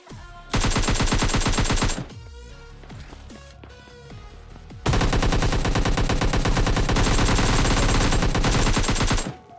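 Rapid automatic gunfire in the BGMI mobile battle royale game, loud sustained bursts of repeated shots, a brief pause with scattered lighter shots, then another long continuous burst.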